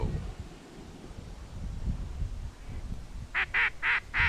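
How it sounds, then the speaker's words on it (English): Flock of ducks on a duck hunt, with greenheads in the area, giving about four loud, close bursts of quacking near the end, after a stretch of quiet low wind rumble. "That was a lot of birds to make that sort of sound coming off their wings."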